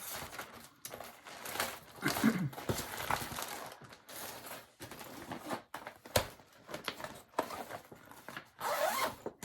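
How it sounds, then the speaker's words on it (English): Zippers on bags are pulled open in quick repeated bursts, close and crisp, mixed with fabric rustling and crinkling, with no talk. "Sorry about the zippers. I forgot to unzip some of them."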